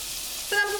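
Chopped tomato is added to a pan with turmeric, giving a brief hissing sizzle that swells toward the end.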